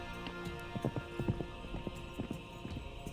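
Horse hooves clip-clopping in quick uneven clusters in the strategy video game Citadelum, fairly faint over a steady game ambience, with no voices.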